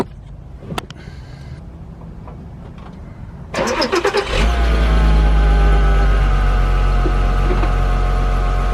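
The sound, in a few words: 2008 VW R32 V6 engine starting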